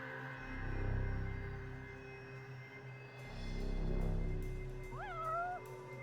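A video game cat gives a single clear meow from somewhere above, late in the clip, over a low droning background hum.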